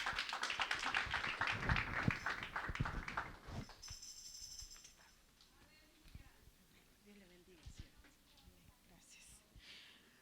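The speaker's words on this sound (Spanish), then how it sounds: "Dele palmas al Señor, mi hermano." Church congregation clapping hands during a worship service, a dense burst of applause for the first few seconds that fades into sparse taps, soft breathing and faint room noise.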